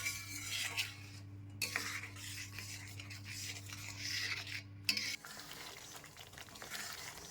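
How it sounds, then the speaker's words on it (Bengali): A spatula scrapes and stirs a spice paste with Kashmiri red chilli powder and a splash of water in a pan for aloo dum, soft intermittent scraping with faint frying close by. "একটু জল দিয়ে মশলাটা ভালো করে কষিয়ে নেব।"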